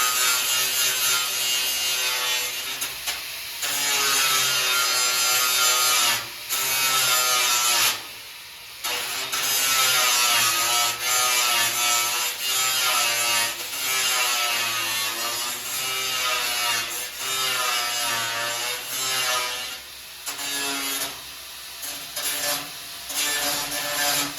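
Angle grinder grinding weld tacks off a metal welding table, a loud continuous abrasive roar with brief dips as the wheel lifts off and bites again, alone with no talk.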